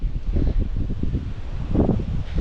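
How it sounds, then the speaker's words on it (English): Strong wind at a fishing spot buffets the microphone in uneven, rumbling gusts, fairly loud and close, with no voices. "Oh man, it is so windy here, bro."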